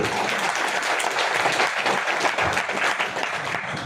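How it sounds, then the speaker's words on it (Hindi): An audience at a seminar applauds a speaker with loud, sustained clapping from many hands, steady throughout with no talk over it. "मैडम के लिए जोरदार ताली"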